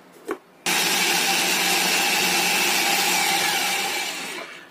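An electric blender purées a tomato, a loud steady whirring roar that starts abruptly after a brief knock, holds for about four seconds, then begins to wind down, with no voices.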